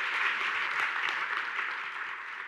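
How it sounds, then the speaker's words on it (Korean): A forum audience at a science lecture event applauds steadily, a dense wash of clapping at moderate distance that tapers slightly toward the end. "큰 박수 부탁드립니다."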